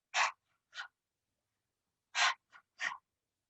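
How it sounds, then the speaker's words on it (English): A person breathes audibly during a slow body-movement dance session: five short, close breaths in two clusters, separated by silence, with no speech. "you can hear me breathing a little bit."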